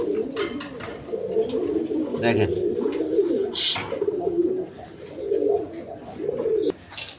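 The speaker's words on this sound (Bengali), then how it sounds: "গ্রেভার কালার বিউটি কবুতর জার্মান বিউটি" German Beauty pigeons, grizzle-coloured, coo repeatedly in a steady, rolling rhythm close by, while someone speaks briefly over them.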